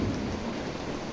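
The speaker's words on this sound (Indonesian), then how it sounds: "Sekalipun hujan turun" Heavy rain pours steadily with a low rumble of thunder underneath, a dense, constant wash of sound at close range with no voices.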